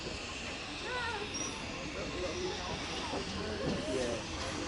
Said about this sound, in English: Steam train number 2, hopefully.